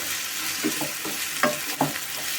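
Ivy gourd and onion slices fried in oil and stirred: a bed of sizzle with four or five distinct scraping strokes of a spatula against the pan, close and clear, no talking.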